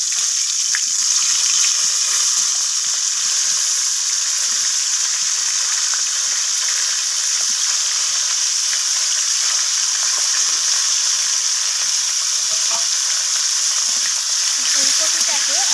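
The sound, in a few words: cauliflower frying in oil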